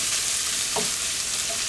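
Crumbled breakfast ingredients frying in a skillet give a steady, loud, close sizzle with no break, with a faint stir partway through.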